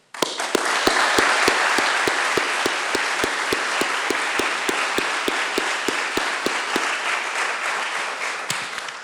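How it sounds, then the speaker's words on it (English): Round of applause for veterans and students at a school board committee meeting: full, sustained crowd clapping with a steady, rhythmic beat of sharp claps running through it for about nine seconds. "I just want another round of applause for all of our veterans, all of our students who participated."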